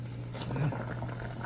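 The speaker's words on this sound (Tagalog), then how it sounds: "Kumukulo na." Pinaksiw broth for Ilokano-style bangus and igado boiling in a pot, a low steady bubbling rumble with soft patter, close and continuous throughout the short moment, with no talk.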